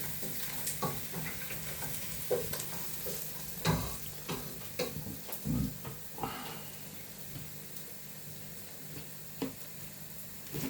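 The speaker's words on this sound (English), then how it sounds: "And I continue fry my onion" Chopped onion frying in a pan for borscht, with a steady soft sizzle broken by repeated scraping stirs at an irregular pace, close and moderately loud, with no voices.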